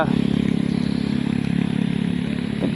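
A Motorstar Xplorer250 v2 motorcycle engine runs steadily nearby with a continuous low, rumbling drone and even pulsing throughout.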